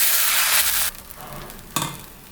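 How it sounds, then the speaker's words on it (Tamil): Tomato dosa batter hitting a hot pan, a loud hissing sizzle for about a second that then drops to a quieter crackle, followed by one short burst of hiss near the end, close and with no talking. "நம்ம தோசை ஊற்றிக்கலாம்."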